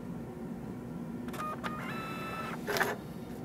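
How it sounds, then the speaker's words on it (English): A Brother label printer whirs and clicks as it prints a label, with a low hum throughout, then a brief rising mechanical buzz and a sharper cutting or feeding burst near the end, close and with no voices. "click the print button, which will print the label to the printer"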